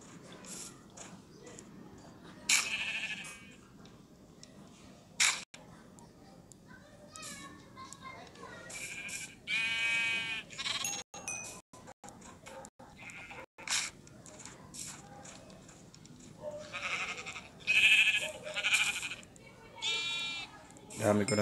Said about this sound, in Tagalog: Dami ko ng tupa guys.